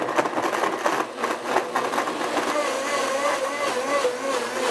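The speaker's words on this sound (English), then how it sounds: "all we got to do is turn on our blender, and we're going to blend this up" A kitchen blender whirs steadily while blending coconut peanut butter ice cream, a continuous buzzing motor tone with a slight rising pitch that stays prominent throughout.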